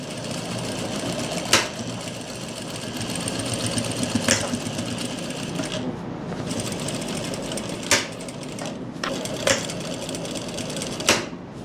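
A sewing machine runs through palazzo pant fabric with a fast, even whirring hum, punctuated by sharp clicks and brief pauses as the stitching stops and restarts, close up and loud.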